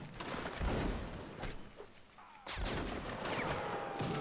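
Musket volleys crackle in a video game battle set in Egypt in 1801, dense overlapping shots forming a continuous roar of fusillade with surges around midway, loud and close with battlefield din throughout.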